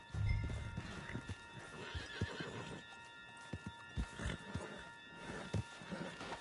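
Horses in the Red Dead Redemption 2 video game clip-clop steadily at a walk, with a loud whinny near the start and hoof thuds continuing close by, with no voices over them.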